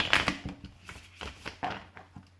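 Tarot cards are given one more shuffle, a series of soft papery riffles and taps in irregular bursts, close and fairly quiet, with no talking.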